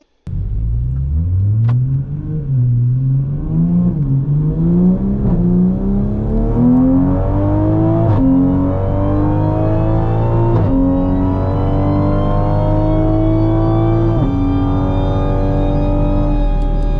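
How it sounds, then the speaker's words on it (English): A Toyota Supra's B58 3-litre six-cylinder engine, tuned with bolt-on upgrades, revs loudly and steadily upward for about sixteen seconds, its pitch climbing in one long sweep with brief dips at gear changes. No one speaks. "B58 3-litre 6-cylinder engine is one of the best there is. It's smooth, sounds great"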